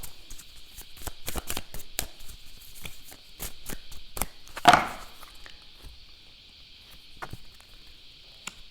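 Tarot cards are shuffled and flicked in quick, dry, papery bursts, close and fairly soft, with a steady high hum behind them and one louder slap midway.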